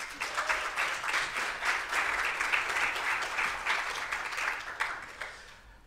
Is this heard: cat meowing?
no